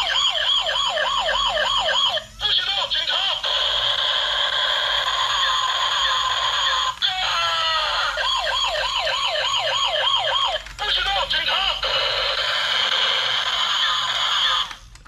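White toy police car siren wailing loudly and steadily, a rising-and-falling electronic tone repeating with brief breaks, close up and alone.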